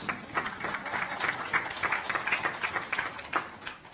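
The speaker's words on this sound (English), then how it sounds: "So, yes, you can clap for that." An audience at a USAID activity launch event claps steadily, a moderate crowd's continuous applause with dense, overlapping hand claps and no pauses.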